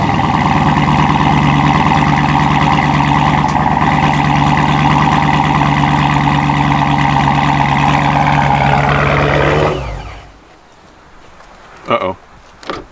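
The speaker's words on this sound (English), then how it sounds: "So let's do this cold start." A car engine on a cold start runs loud and steady with a heavy low rumble, then shuts off abruptly after about ten seconds, leaving near silence broken by a couple of faint clunks.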